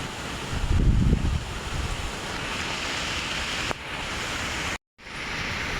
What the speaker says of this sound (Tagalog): Malakas pa rin yung hangin mga kapisda.